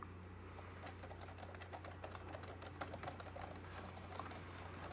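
A Logitech ERGO K860 ergonomic keyboard is typed on at a quick, uneven pace, producing soft, muted key taps close by over a low steady hum.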